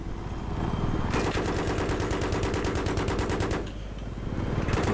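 A rapid burst of automatic gunfire in Battlefield 3 rattles for about two and a half seconds, steady fast rhythm over constant background game noise, then resumes briefly.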